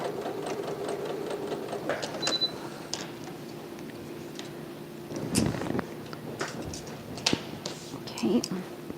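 A sewing machine stitches quilt fabric pieces for a Sunrise Star quilt block in short, close bursts of rapid whirring, with pauses, handling clicks and someone talking between runs.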